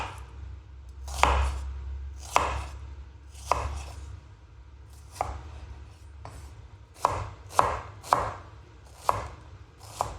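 A knife chops through an onion on a cutting board in about a dozen crisp, fairly evenly spaced strikes, close and clear over a low steady hum, with no talking.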